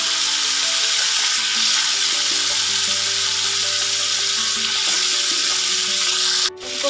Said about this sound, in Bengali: আর মাছ ভাজা তেলে ভেজে নেব ফুলকপি।